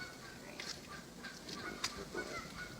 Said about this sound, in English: I know the geese are going crazy over there.